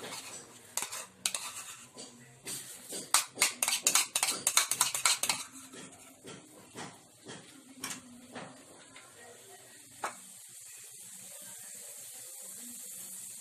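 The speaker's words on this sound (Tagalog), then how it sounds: "Sa paggawa naman ng gravy mga paps and moms, maglagay tayo ng butter or margarine." Butter or margarine in a pan as gravy for karne norte burger steak begins, with a burst of sharp metal utensil clinks and scraping stirs, then quieter sizzling and occasional taps, close by.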